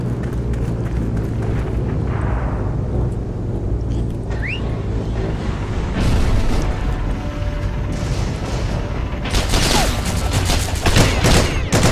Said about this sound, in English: I don't know who's shooting me.